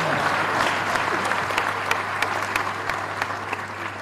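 A crowd claps at a university convocation, a continuous, fairly loud burst of many hands with sharper individual claps standing out over a low steady hum.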